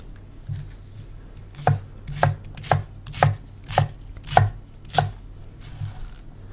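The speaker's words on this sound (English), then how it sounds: "We're chopping the onion whites and leaving the spring onion greens to chop later." A knife chops spring onion whites on a cutting board, with about nine crisp, evenly spaced, close-up thuds and no talking.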